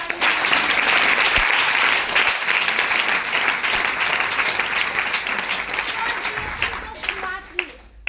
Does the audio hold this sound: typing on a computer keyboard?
no